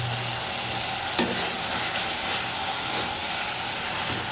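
Very hot oil fries in a pan while a meat dish cooks, giving a loud, continuous sizzle throughout, broken by a single sharp clink early on; no talking.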